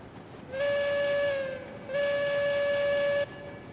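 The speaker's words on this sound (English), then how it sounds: "Give her a good old whistle." A steam locomotive whistle in the train game Railroads Online gives two long, loud, steady blasts, each lasting over a second, with a short gap between them and a faint background hiss.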